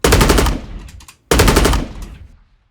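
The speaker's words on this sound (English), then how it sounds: "Now it's perfectly synced up to how Aaron shot these." Recorded real gunfire prepared for game audio: two loud bursts of rapid automatic shots, each lasting about half a second and trailing off into a decaying echo, with a brief silence between them.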